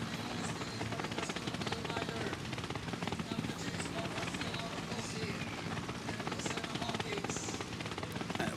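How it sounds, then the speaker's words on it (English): Helicopters hover above a women's road bicycle race in Norway, making a continuous, dense rotor rumble that fills the whole stretch at an even level, with voices talking over it. "You can hear the helicopters hovering above."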